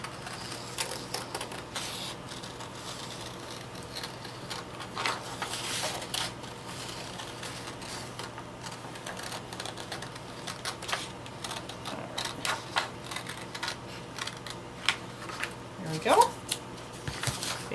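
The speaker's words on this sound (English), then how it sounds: "I'm going to take this and cut it out" A paper stencil is cut out by hand with scissors, giving soft, irregular snips and crinkly paper rustles up close over a faint steady background hum, with louder snaps of cutting near the end.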